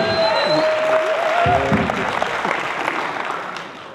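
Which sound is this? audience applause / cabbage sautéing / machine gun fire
audience applause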